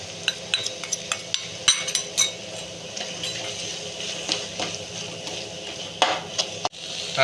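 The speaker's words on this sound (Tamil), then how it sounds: "இப்போ நல்லா தக்காளி வெங்காயம் நல்லா வதங்கி வந்துருச்சு ஸோ நம்ம அரைச்சி வச்சுருந்த இஞ்சி பூண்டு பேஸ்ட்டு இதில் மிக்ஸ் பண்ணிக்கலாம்" Ginger garlic paste stirred into frying tomatoes and onions for chicken gravy: close, irregular clinks and scrapes of a utensil against the pan over a soft sizzle, with no voices.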